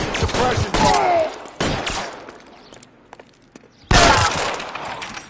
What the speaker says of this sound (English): I'll lay down some suppression fire.